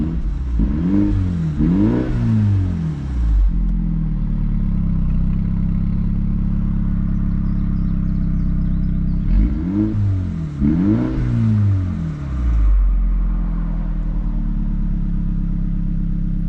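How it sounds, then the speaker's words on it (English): A 2017 Mini Cooper S F56 with a JCW Pro exhaust revs hard twice with an idling drone between the bursts, each rev rising and falling loud and close. "you hear that wonderful JCW Pro exhaust"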